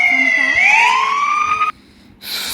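A siren in the Roblox video game wails with a rising tonal sweep, loud and close, then cuts off abruptly before a burst of noise returns.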